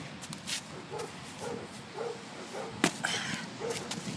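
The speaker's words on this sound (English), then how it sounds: "This dog is barking." Dog barking on a beach, several short, fairly faint barks repeating roughly every half second over a bed of outdoor background noise, with a sharper knock partway through.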